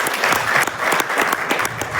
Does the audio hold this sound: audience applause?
yes